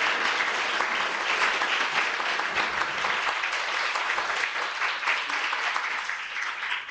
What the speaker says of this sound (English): So can I have another round of applause?